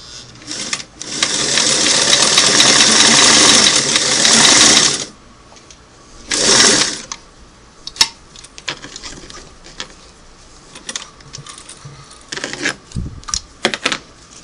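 A Singer Model 338 sewing machine runs a single-needle zigzag stitch in a loud, fast, rattling burst of about four seconds, then a shorter burst. Scattered light mechanical clicks and handling knocks follow.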